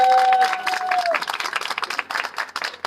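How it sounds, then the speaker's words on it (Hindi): Audience applause at a motivational talk, clapping that rises and continues in uneven bursts while a voice is briefly heard at the start. "एक बार इनके जोरदार ताली।"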